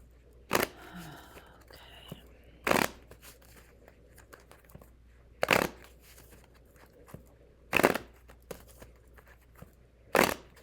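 Tarot cards shuffled in brief, crisp bursts roughly every two to three seconds, five in all, close by over a faint quiet background.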